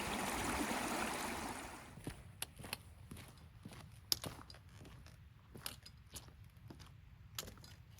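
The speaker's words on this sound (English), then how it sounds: "Okay, got my first little stream crossing." A small stream at a hiking trail crossing on the Cape Wrath Trail in Scotland rushes steadily for about two seconds. Then the water fades back and sharp clicks and taps of footsteps or gear on rock take over.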